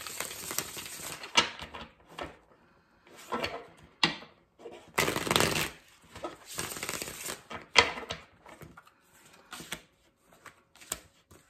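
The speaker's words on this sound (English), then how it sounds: "Let's get two more shuffles for Cancer." Tarot cards are shuffled in repeated riffling bursts with pauses between, each a crisp close flutter of paper slapping together.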